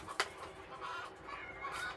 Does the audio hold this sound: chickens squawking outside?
yes